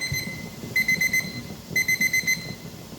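A kitchen timer alarm rings in two bursts of rapid, shrill beeps, each burst a quick run of four or five pulses, over a low background rumble.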